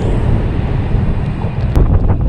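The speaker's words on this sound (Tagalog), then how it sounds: "Lakas ng hangin dito." Strong wind buffets the microphone on a solo motorcycle ride on the Sierra Madre loop near Regina Rica in Tanay, Rizal, a loud continuous low rumble filling the whole moment.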